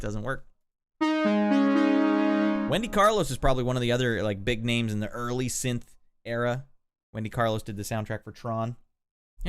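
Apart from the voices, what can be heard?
None of the usual background noises is heard.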